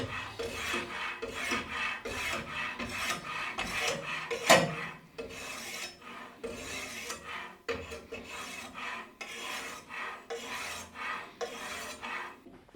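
A child's dull kitchen knife drawn across a sharpening stone, rhythmic rasping strokes repeating steadily back and forth, close and fairly loud, with no talking.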